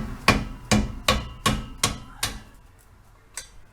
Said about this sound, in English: So I'm just going to break it free with a hammer